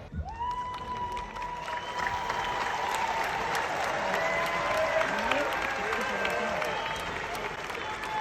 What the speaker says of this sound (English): they're clapping because those people are leaving